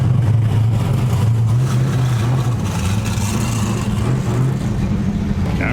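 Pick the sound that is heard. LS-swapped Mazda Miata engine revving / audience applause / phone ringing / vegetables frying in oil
LS-swapped Mazda Miata engine revving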